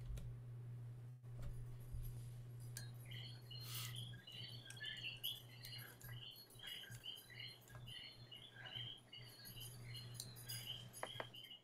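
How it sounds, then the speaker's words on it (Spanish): Coquí frogs in Puerto Rico call in a dense chorus of high, repeated chirps over a steady low hum, faint and distant, with no voices. "Me encanta el sonido de esos coquís en Puerto Rico."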